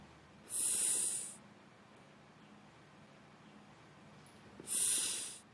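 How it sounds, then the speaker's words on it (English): Two rescue breaths given during CPR, heard as two strong rushing airy bursts about four seconds apart, close up against a quiet background, with no talking. "And now give 2 breaths."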